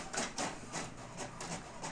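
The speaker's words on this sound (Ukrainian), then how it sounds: "тепер я просто роздрукую цю партію" A home printer runs off a sheet music part, its print head sweeping in a steady series of rhythmic mechanical passes, close and moderately loud, with no talk.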